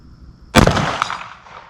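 A single sharp gunshot from a Walther PDP SD Pro Compact pistol cracks out outdoors, loud and abrupt, followed by a short decaying echo.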